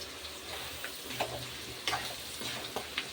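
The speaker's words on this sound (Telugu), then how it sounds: "వేసుకొని ఇంకొద్దిసేపు ఫ్రై చేసుకోవాలి." Chicken chukka frying in a pan with masala and coriander, a steady soft sizzle with occasional scraping stirs and light clinks, close and moderately quiet.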